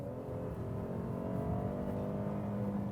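A 2022 Buick Enclave's engine hums steadily and pulls up a slight incline, a low, even drone heard from inside the cabin at moderate volume with no talking.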